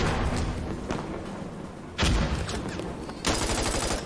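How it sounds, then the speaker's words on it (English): Gunfire and grenade blasts from a shooter video game match: loud bursts of shots and thumping explosions crack in at the start, again at two seconds and near the end, with dense firing in between. "Lots of nades flying through, shots all over the place."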